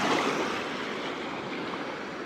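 Ocean waves wash along the coast of Muscat in a steady, close surf wash, a little louder at the start and then even, with no voices.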